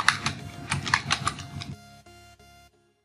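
Computer keyboard typing a name, rapid close key clicks in an uneven burst for about a second and a half, then quieter isolated presses before fading to silence.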